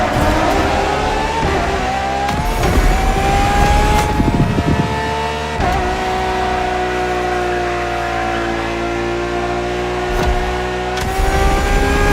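A Ferrari V12 hybrid engine in The Crew Motorfest revs loudly and steadily, rising and shifting pitch as it climbs through gears, with brief dips between pulls and no voices over it.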